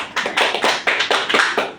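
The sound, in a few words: audience applause for Durga Prasad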